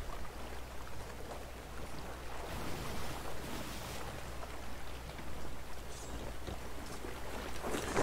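A ship sails across open sea in Sea of Thieves, giving a continuous wash of waves and rushing water over a low rumble, with a few splashes and creaks, steady and moderately quiet.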